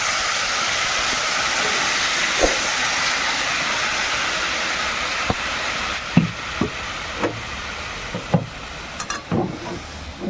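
Liquid poured into a hot pan while cooking a sour hilsa fish curry with turmeric and salt gives a steady broad sizzling hiss, with scattered sharp clicks and clatters near the end.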